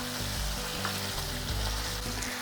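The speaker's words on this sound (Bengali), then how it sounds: "আরও 2 মিনিট এইভাবে ঢাকা খোলা অবস্থাতেই পুরো মশলাটাকে কষিয়ে নিয়েছি" Spice masala cooks in oil in an uncovered pan for a vegetarian potol dish, producing a dense, even sizzle with soft stirring sounds, close and unbroken.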